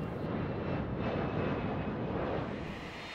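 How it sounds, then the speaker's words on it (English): A fully loaded Boeing test plane races down the runway at top speed, its engines a loud, steady broadband roar that holds for a few seconds and eases slightly at the end. "the plane was loaded to its maximum takeoff weight and sent down the runway at its top speed."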